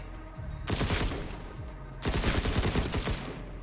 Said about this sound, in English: Let's get the SMG out.